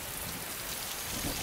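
Heavy storm rain on an alien planet in Alien: Covenant pours down in a dense, continuous hiss, loud and close, with no speech.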